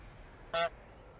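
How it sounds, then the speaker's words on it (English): A single short car horn toot from the Suikoden video game sounds once, clear and bright, over a faint steady background hiss. "Honk. Honk!"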